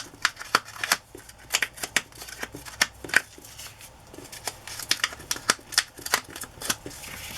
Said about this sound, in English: Crumple up the edges a little bit.